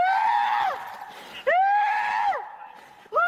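A woman who has stepped on a nail screams in two long, loud, piercing cries that fall in pitch at the end, with a third cry just starting as the clip ends.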